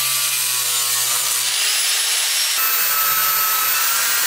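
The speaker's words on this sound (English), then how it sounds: "I cut it with an angle grinder." An angle grinder cuts through a fiberglass rocket tube, a loud continuous high-pitched whine and abrasive rasp that holds steady with slight pitch shifts throughout.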